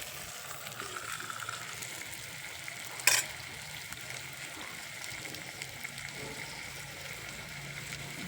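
Chopped onion sautés with turmeric and salt in a pan over a wood-fired chulha, giving a steady, moderate sizzle with a soft stirring texture and one sharp clack near the middle.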